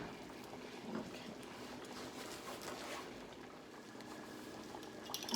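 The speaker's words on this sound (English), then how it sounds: "I'm going to let it simmer for about 15 minutes" Tomato sauce simmers in a pot with a soft, steady bubbling and light popping. It stays faint and close, with no talk over it.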